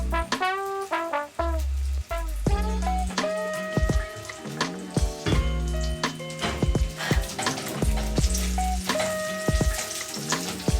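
Olive oil sizzles in a frying pan with pork while preparing carbonara, a steady crackling hiss under a prominent melodic music track.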